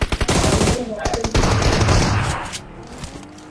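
Video-game gunfire rattles in loud, dense bursts of rapid machine-gun shots, thins out after a couple of seconds and leaves a few scattered faint pops.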